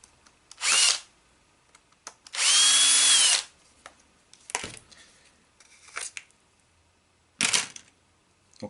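A cordless drill drives screws on a Traxxas X-Maxx RC car in short, close bursts: a brief whir, then one longer sustained spin, then a few quick clicks and a final short burst, with quiet gaps in between.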